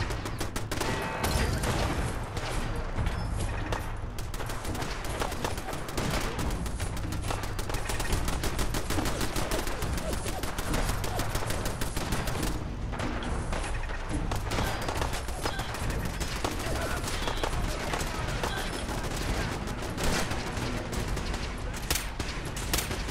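Automated turrets fire guns in the video game Fallout 4, a dense, continuous volley of rapid gunfire that stays loud and steady, with brief dips, for over twenty seconds.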